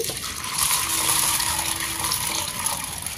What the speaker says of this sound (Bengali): এর মধ্যে পরিমাণ মতো জল দিয়ে দিচ্ছি।